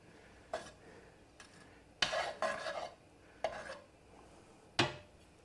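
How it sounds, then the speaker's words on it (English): Metal utensil scraping browned bits off the bottom of a pan with butter and olive oil over a lit flame, in several short, close scrapes and clinks with quiet gaps between them. "as we kind of scrape up the bits, as they say, on the bottom of the pan"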